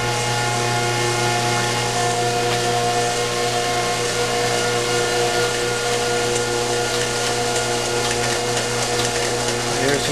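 A 383 marine engine on a test stand runs with a steady, loud, dense mechanical drone and whine that holds evenly throughout, with no pauses.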